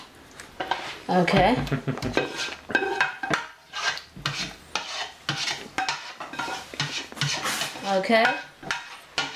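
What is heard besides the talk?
turkey pan being handled and put in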